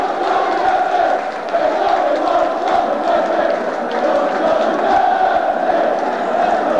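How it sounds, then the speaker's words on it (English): Stockport County football fans cheer and chant for manager Colin Murphy during a Division 4 promotion celebration, a dense, loud, sustained crowd roar that holds steady for the whole stretch. "And the County fans showing their loyalty by cheering for Colin Murphy."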